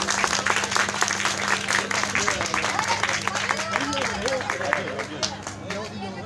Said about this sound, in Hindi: भरपूर तालियां बजाएं आप।